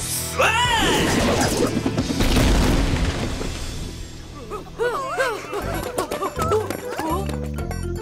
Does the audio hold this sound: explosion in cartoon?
yes